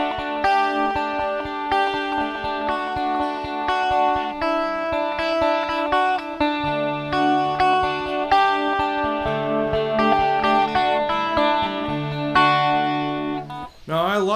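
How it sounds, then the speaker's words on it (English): A 12-string guitar strummed through a vibe pedal, chiming rich chords with a wavering, pulsing shimmer, playing continuously and prominently before a brief slide at the end. "I'm going to give you a vibe pedal to hear kind of what it's going to sound like."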